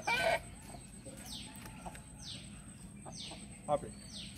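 Hens and breeder chickens clucking on a farm where the birds are sold. Several short close clucks repeat with gaps over a low background hum, and a louder cluck comes near the end.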